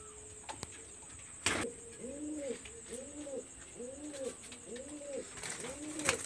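Pakistani high-flyer pigeons coo in a series of soft, rolling calls, close by and repeated about once a second, with a few sharp clicks and knocks around them.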